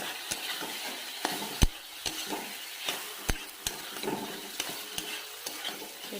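Potatoes stirred in a hot pan sizzle steadily while a spoon scrapes and clinks against the metal at irregular intervals, close and fairly quiet.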